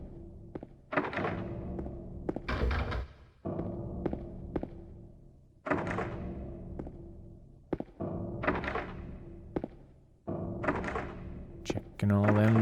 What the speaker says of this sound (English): Checking all them doors.